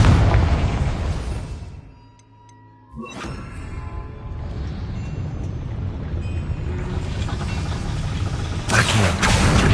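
A Confringo spell explosion in a Harry Potter video game: a short quiet gap, then a sharp burst followed by a long rumbling roar that swells again near the end.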